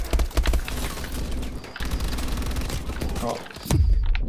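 Gunfire in the video game Call of Duty Advanced Warfare, bursts of shots with a heavy thump near the start and again near the end, loud and close amid dense game noise, with someone talking over it.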